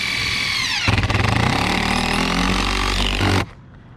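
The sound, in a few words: driving cap screws into an EPDM rubber roof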